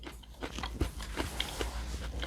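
Crunchy lettuce, the firm middle piece, bitten and chewed up close, giving a string of sharp, crisp crunches with short gaps between bites and no talking.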